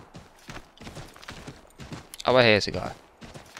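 Horse hooves clip-clop while riding across open prairie in Assassin's Creed 3, a steady trotting patter running under someone talking in German, with a brief louder burst midway.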